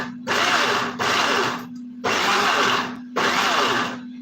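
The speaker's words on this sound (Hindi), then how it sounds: "गरम में ग्राइंड करो, पल्स मोड पे करना, 2 से 3 बार करके" A mixer grinder grinds a hot mixture on pulse mode, with four loud bursts of whirring motor noise, each close and about a second long, separated by short pauses.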